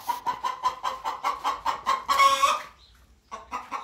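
Backyard chickens in a coop cluck in a quick, loud, rhythmic series of calls that swell into a longer squawk, then stop briefly before the clucking resumes, close by with no one talking.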